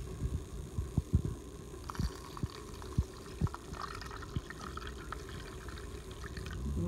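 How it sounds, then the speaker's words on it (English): Cold brew coffee is poured slowly into a pitcher, a faint, low liquid trickle and gurgle with a few soft thuds and knocks, quiet and close throughout. "Okay, and you just pour it in slowly."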